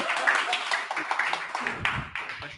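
A small audience at a live tech talk claps briefly, scattered and uneven, close by, fading out after a couple of seconds.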